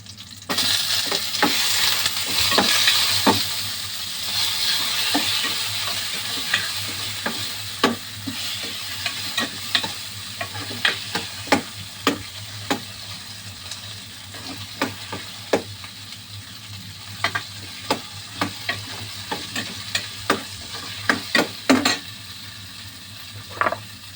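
Garlic, ginger, onion and tomato sauté in a pan with a steady loud sizzle, punctuated throughout by sharp clicks and scrapes of a utensil stirring against the pan, with no talking.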